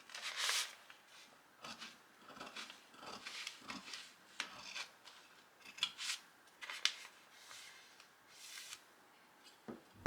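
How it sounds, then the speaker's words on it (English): Scissors snipping through fabric for a trapper hat, a quiet series of short, irregular cutting strokes close by with small pauses between them. "For the front opening, cut off the seam allowance like this so you can cut into the front flap shape with"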